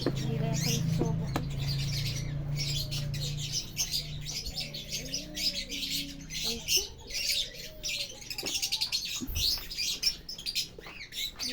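Hand-fed pet bird in a temporary cage: close, repeated high chirps and squawks in irregular bursts, with a low hum at the start and occasional handling noises.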